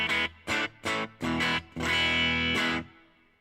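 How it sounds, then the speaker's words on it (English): An electric guitar runs through a reverb effect on a Tone Master Pro, playing several short chords in an even rhythm and then one long sustained chord whose reverb tail fades out; loud and close, no speech. "Okay, this is a good overall reverb."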